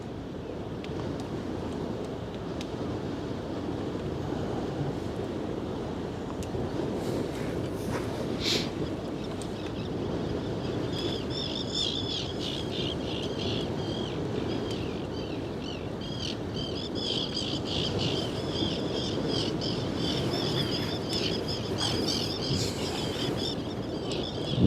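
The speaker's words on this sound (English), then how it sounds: "Birds are going ham right now." Birds chirping and singing outdoors on a windy waterfront at the Westerschelde in the Netherlands, with bright, rapid calls joining partway through and continuing over constant wind rumble and distant water noise.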